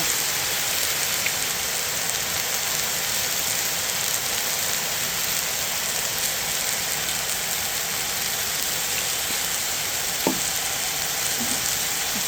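Pork belly sizzles on a Joseon cast-iron griddle from Anseong Jumul outdoors, a loud, dense, constant frying hiss that goes on with no break.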